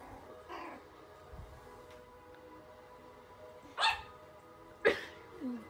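Puppies scuffle at low volume amid faint background hum, then give two sharp close barks a second apart, followed by a softer yelp.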